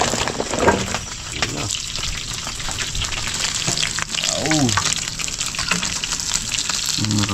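Broth boils in a pot with red bass fish, bubbling and sizzling steadily, a busy crackling, gurgling texture with brief voices speaking faintly in the background.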